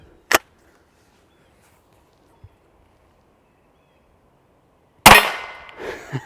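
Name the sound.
Baikal MP 18 shot hitting steel target and backstop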